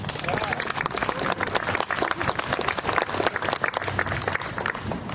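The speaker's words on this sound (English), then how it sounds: "please another round of applause for them" An audience at a House of the Philippines gathering applauds the muses, a loud, dense burst of many hands clapping with some crowd noise and voices mixed in, sustained throughout.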